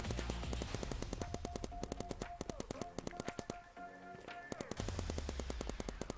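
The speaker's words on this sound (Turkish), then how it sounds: "Şu anda full havaya sıkıyorum arkadaşlar." Rapid automatic gunfire in a Roblox paintball game, bursts of sharp repeated shots in quick rhythm with brief gaps, moderately loud over faint game sounds.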